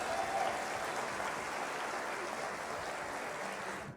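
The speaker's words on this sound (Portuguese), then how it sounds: "Então gostaria de pedir uma salva de palmas para o nosso reitor" Steady audience applause for a university rector at a Black Consciousness event, a dense even wash of clapping that holds level and fades out at the end.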